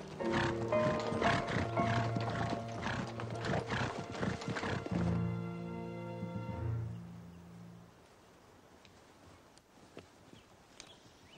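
A young foal and horse in a war-film setting neigh and whinny loudly over a steady clip-clop of hooves, the calls fading after several seconds into quieter background.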